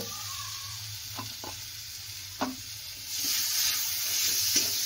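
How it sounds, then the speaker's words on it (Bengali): Tomatoes and salt sizzle and fry in a pan while being stirred, a steady close hiss that grows louder and brighter toward the end, with a few soft clinks from the stirring. "এবার ভালো করে একটু কষিয়ে নেবে"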